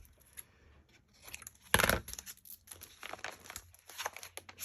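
Paper being cut and handled while making a large tag from junk mail envelopes, with a loud crinkling burst followed by a string of snips, rustles and small crunches close by.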